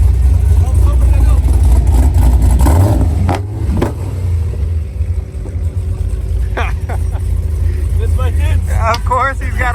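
A cammed LS3 V8 in a drag-radial car revs at a drag strip, a loud, steady low engine drone with a throttle blip midway, while people talk over it.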